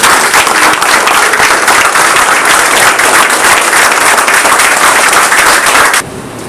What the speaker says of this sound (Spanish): le tributemos un minuto de aplauso en su memoria.